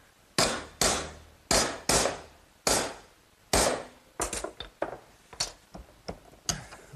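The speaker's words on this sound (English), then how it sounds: "Now I'll just bend it over with my hands, and then use a block of hardwood to sharpen up the corner." A hardwood block strikes a bent metal corner held in a vise on a garden swing build, giving a series of sharp, close knocks, first slow and evenly spaced, then quicker and lighter.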